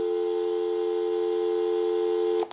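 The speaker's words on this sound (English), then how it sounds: "We'll call my number and it'll be busy" Busy signal on a Western Electric 323 candlestick rotary telephone, a steady electronic tone held for over two seconds before cutting off with a brief click at the end.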